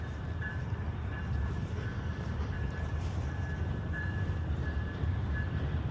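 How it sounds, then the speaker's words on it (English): An Amtrak train rumbles steadily nearby on Sacramento's Tower Bridge with a constant low roar and faint metallic whine, no voices present. "Some type of Amtrak train running on the Tower Bridge."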